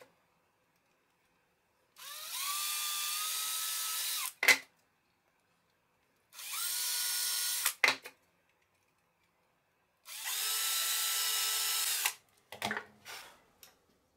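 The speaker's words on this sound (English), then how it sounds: "I am going to drill a pilot hole there, on the inside of each of these corners." A power drill bores pilot holes into the inside corners of a handmade wooden lamp frame, three steady whirring bursts of about two seconds each, every one ending in a short clunk, with quiet pauses between.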